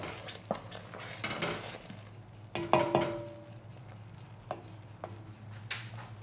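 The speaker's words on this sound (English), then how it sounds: "Just stir this." A wooden spoon stirs homemade Korean rice syrup (ssal-jocheong) boiling in a pot, giving scattered scrapes and clinks against the pot at an uneven pace, with a few louder knocks partway through, close and fairly quiet, with no talking.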